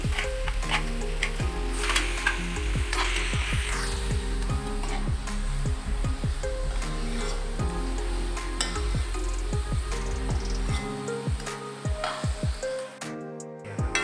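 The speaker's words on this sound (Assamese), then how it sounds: "এতিয়া ভাজি লোৱা পিঁয়াজখিনিত মই মাংসখিনি দি দিছোঁ" Steady, loud sizzling of chicken pieces frying in a hot pan with previously fried onions, with occasional clinks and scrapes of stirring, fading to quieter sizzle near the end.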